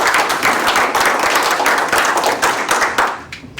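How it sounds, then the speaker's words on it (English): Close, lively applause from an indoor group for a team, with brisk, slightly uneven hand claps and a few thumps for a few seconds, trailing off at the end. "So a round of applause for Team Decent."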